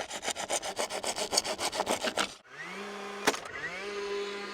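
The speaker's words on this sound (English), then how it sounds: "This is how you make a handsaw out of a Sawzall blade." Rhythmic hand sawing of wood with a Sawzall blade held in the hand, about a dozen quick strokes rasping back and forth close up, then stopping, followed by a brief whine and a sharp knock.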